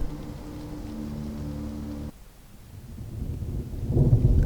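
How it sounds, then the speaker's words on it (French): Rumbling thunder rolls through steady rain, breaks off abruptly midway, then a deeper low rumble swells back up near the end. "Puis peu à peu, la pluie s'estompe."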